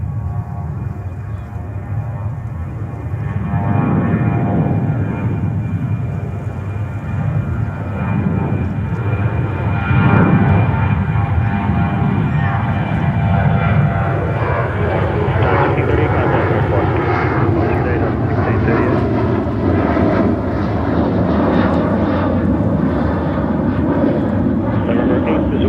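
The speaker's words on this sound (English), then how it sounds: "And we have DHL approaching runway 2 to the left from Milan." A DHL Airbus A330-200 freighter on approach to JFK runway from Milan roars loudly and steadily overhead, its engine whine and broadband rumble swelling and shifting as it passes close by.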